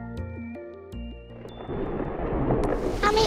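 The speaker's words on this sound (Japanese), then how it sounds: "雨が降ってきた。" Animated rainstorm with thunder: after a short run of tonal chimes, a loud rumble of thunder rolls in and steady rain hisses on, with a sharp crack near the end.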